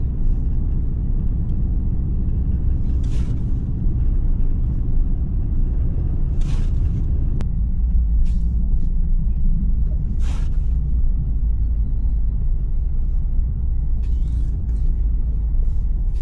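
A 630 hp Mercedes-AMG GT S drives through blizzard snow with a steady low engine rumble throughout and a few brief sharp clicks or thumps over it, no voices.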